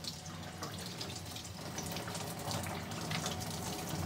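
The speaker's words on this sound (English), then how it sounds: "you'll see that the water goes right in here" Water pours steadily into the reservoir of a BLACK+DECKER IR1350S steam iron, a continuous close splashing, gurgling fill without pauses.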